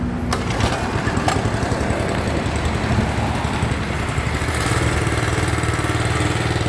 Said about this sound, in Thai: เดี๋ยวมาฟังเสียงเครื่องยนต์กันดูนะครับว่าดีจริงไหมนะครับ